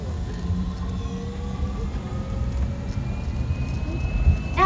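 Steady low rumble of the Bronx Zoo Wild Asia monorail running along its track, with faint whining tones rising over a continuous mechanical hum.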